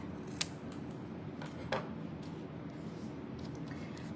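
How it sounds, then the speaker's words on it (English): Scissors trimming the edge of a paper craft tag, two quiet, distinct snips a little over a second apart over a faint background hiss. "I'm gonna trim that."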